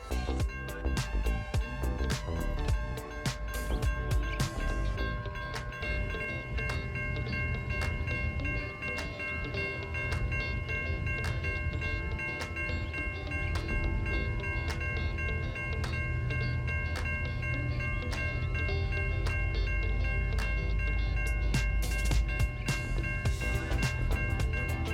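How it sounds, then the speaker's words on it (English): A train rumbles steadily past a street crossing in Anchorage for the whole stretch, a dense low roar with constant metallic ringing tones and rattling above it, close and loud. "I'm going to be ending this video with some lovely moments with the train."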